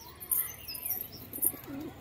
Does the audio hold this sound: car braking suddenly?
no